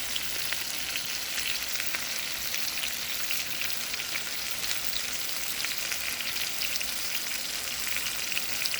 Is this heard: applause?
no